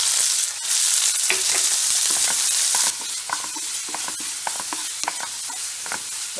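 Onion, ginger and curry leaves fry in hot oil with a loud, steady sizzle, which drops slightly partway through. Scattered clinks and scrapes of stirring can be heard close by, and no one speaks.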